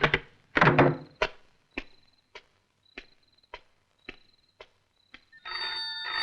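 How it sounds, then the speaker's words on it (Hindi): An old telephone bell rings in short, evenly spaced bursts, close and fairly loud, after a few heavy thumps at the start, ending in a sustained tone. "टेलीफोन?"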